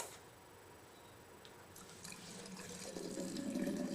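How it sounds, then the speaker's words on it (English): Water runs quietly from a tap into a vessel for a witch's brew in a Halloween sound scene, faint at first and then growing fuller as the flow continues. "So I'm putting water."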